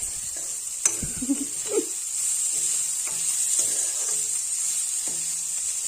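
Bitter gourd (karela) fries in a pan with a constant bright sizzle, broken by a few sharp clacks and scrapes as a spatula stirs the slices.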